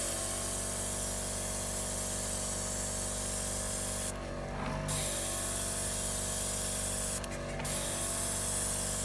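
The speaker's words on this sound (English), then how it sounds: "we're going to just test our airbrush and turn it on" Steady airbrush hiss of paint spraying runs continuously with a compressor hum underneath, briefly dipping twice as the spray cuts off and resumes.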